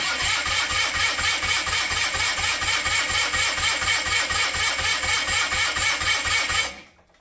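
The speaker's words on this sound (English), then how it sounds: "let's see if it'll fire if I crank it over while spraying some starting fluid on the engine head" The small engine on a mini airboat is cranked over by its starter with starting fluid sprayed around it, making a loud, steady, rhythmic chugging that keeps on without firing and then stops abruptly.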